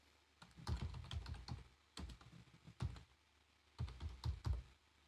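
Typing on a computer keyboard while renaming a track in Ableton music software: three close bursts of quick, clicky keystrokes separated by short pauses, with no talking.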